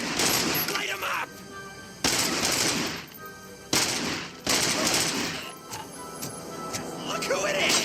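Rapid gunfire bursts from the video game Robocop Rogue City come in loud, dense volleys with brief gaps between them, while voices call out over the shooting.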